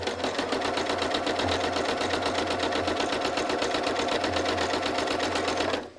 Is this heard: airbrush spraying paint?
no